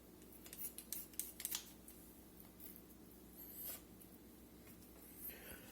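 Kitchen shears trim raw chicken with a quick run of close, crisp snips and scraping cuts, then a few scattered quieter snips after a pause.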